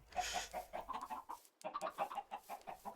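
A Minecraft chicken clucks in a quick run of short, evenly spaced bursts, with a brief pause midway before the clucking picks up again, fairly close and alone without talk.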